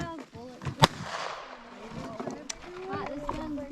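A .22 rifle fires a single sharp crack at close range at a soda can, followed by chatter and other shooting-range voices.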